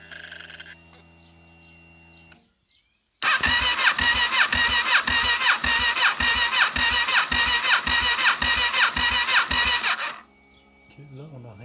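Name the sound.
Kawasaki ER6N motorcycle engine starting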